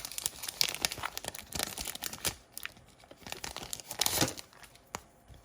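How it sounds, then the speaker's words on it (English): A sticker package is opened, its plastic wrap crinkling and tearing in close, irregular bursts with no talking. "Let's open the stickers for this plant mama."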